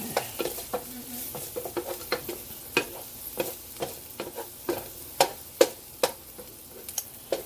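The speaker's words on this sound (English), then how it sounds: "saute this onion down here. Let it soak up that bacon grease there." Chopped onion sautés in bacon grease for tacos, a continuous sizzle broken by repeated sharp scrapes and taps of a utensil stirring the pan, close and fairly loud.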